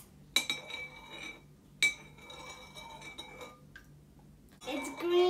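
A spoon stirs a liquid in a glass during a kids' sink-or-float experiment, giving sharp clinks against the glass at a few spaced moments, separated by quieter scraping, with soft speech at times.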